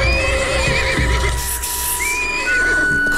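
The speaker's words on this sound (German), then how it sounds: "Komm zurück, kleines Pferd." A cartoon horse in an animated series neighs loudly and shrilly, a long wavering whinny close by with no one speaking.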